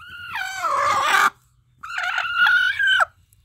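A rooster in a backyard chicken coop lets out two loud, close crows, a long drawn-out call followed after a short pause by a second one, with quiet low clucking beneath.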